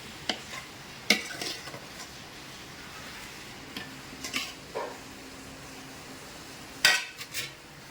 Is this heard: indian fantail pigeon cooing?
no